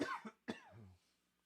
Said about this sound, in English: Hold on, I got to cough one more